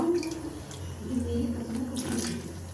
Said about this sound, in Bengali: বাটিটা ধুয়ে দেব।